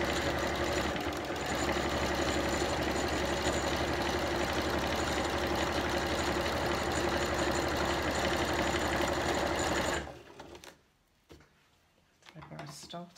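A sewing machine runs steadily while top stitching fabric, a continuous mechanical whir lasting about ten seconds before stopping abruptly, followed by faint handling noises.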